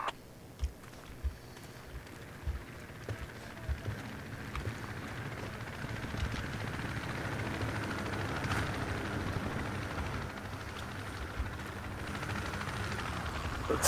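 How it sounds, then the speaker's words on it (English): A helicopter in the military shooter game Project Reality gives a steady rotor drone and whir that holds throughout and swells slightly as it draws nearer, with no talk. "Here comes the chopper."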